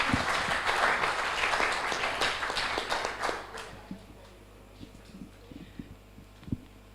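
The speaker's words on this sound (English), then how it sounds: "please give your big applause to the three presenters." Audience applause for presenters at an international applied mathematics conference, a burst of clapping that thins out after about three seconds into scattered claps and a low room hum.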